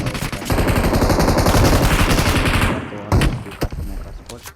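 Heavy gunfire in a battle royale shooter game, loud rapid bursts of automatic fire that run for nearly three seconds, then give way to a few scattered single shots.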